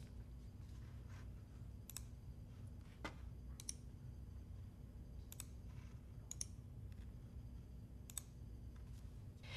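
A computer mouse clicks faintly and sparsely during a copy-and-paste on a Windows PC, single and paired light taps scattered over a quiet room hum.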